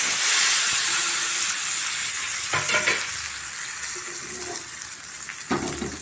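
Tempering hits hot oil for a raw gram and brinjal gojju, a loud steady sizzle and hiss close by that eases slightly, with a few stirring knocks in the pan.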